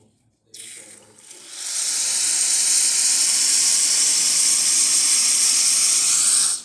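After a brief clunk, a loud, steady hiss of hot water and steam rushes out of the nozzle of a Rocket Giotto espresso machine, freshly serviced with a new silicone gasket, and continues unbroken until it stops.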